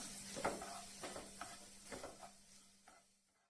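Two dry red chillies, broken into pieces, frying in a pan with a steady close sizzle and spoon scrapes, the hiss fading toward the end.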